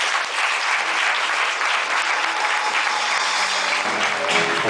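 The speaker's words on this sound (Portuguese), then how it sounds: "podemos bater palmas" Sustained, dense applause from a congregation at a Catholic charismatic prayer seminar, loud and continuous throughout with no speech over it.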